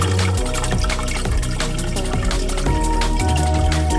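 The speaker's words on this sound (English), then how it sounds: "the return pump was running, just pumping water back into the intake section so that I could confirm the flow" A return pump in an aquarium sump pushes water back into the intake section, giving steady, loud splashing and trickling flow with continuous bubbling and dripping throughout, close by.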